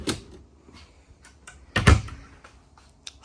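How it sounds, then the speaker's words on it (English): A quiet soft-close drawer in a 2024 Renegade Explorer 40ERB motorhome slides and thuds softly shut, with faint clicks and taps before and after. "All soft close, pull out drawers"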